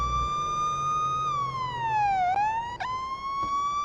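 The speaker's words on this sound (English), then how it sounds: "Good night, that siren." A loud electronic police siren in Police Simulator: Patrol Officers wails steadily, its pitch dipping and rising once, with a couple of brief clicks and no talking.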